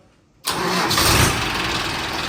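A tractor engine cranks and catches abruptly, then settles into a loud, steady running roar close by.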